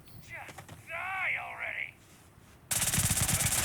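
Talk up front, then a loud, dense burst of rapid gunfire from a gun in the space game Starfield fills the last second.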